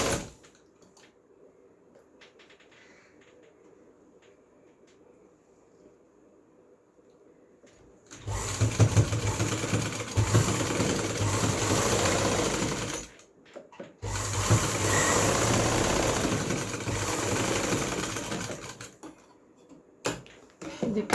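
A sewing machine stitches lace onto a garment neckline, starting after a quiet stretch and running in two steady, whirring bursts of several seconds each with a short pause between them.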